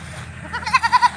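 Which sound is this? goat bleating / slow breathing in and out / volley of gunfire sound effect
goat bleating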